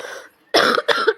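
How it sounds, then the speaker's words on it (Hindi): A woman gives two sharp, close coughs in quick succession after a moment of soft background noise, in a home kitchen while cooking noodles. "खांसी भी आ जाती बीच बीच में"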